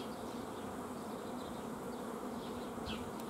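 Honey bees buzz around a hive while a colony is being split into a new box, a steady low drone of many insects at moderate distance with no talking.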